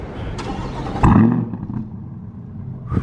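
A 2020 Corvette fires up among city buildings with a sharp starter crank and a loud bark that settles into a lower idle rumble, followed by a second brief blip near the end.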